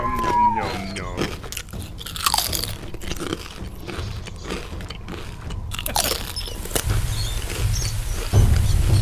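Someone bites and chews crunchy food, with a mix of ketchup and milk in the mouth, producing loud, close, irregular crunches and wet mastication sounds, briefly preceded by a short squeaky tone.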